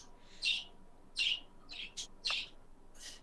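A pet bird gives a run of bright, high chirps in short bursts, about six calls spaced roughly half a second apart, close and clear over a quiet room.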